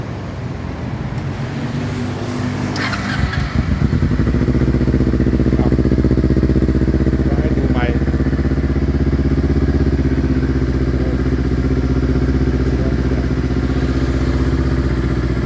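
A two-cylinder Kawasaki Ninja 250 motorcycle engine starts and settles into a loud, steady, throbbing idle with a low rumble, close by, with no talking.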